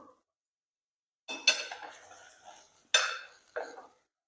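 Spoon stirring a pot of cowpea curry after chopped coriander is added, giving a few short scraping clinks against the pot with quieter shuffling in between.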